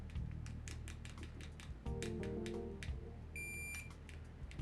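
A PDM-711 cheap multimeter gives a short continuity-test beep, a thin high electronic tone near the end amid quiet clicks and handling noise.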